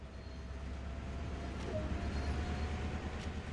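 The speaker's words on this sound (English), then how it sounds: "With the train now moving, it's possible to apply more power" A train in Train Sim World 2020 pulls away from a stop, giving a steady low rumble with a faint squealing tone that holds evenly throughout, with no talking.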